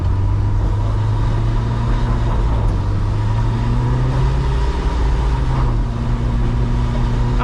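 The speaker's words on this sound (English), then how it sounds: "Let's see about if we can climb this hill in two-wheel drive." A Jeep in two-wheel drive laboring up a hill, its engine droning loud and steady with a slowly rising pitch as it pulls, over road rumble and with no one speaking.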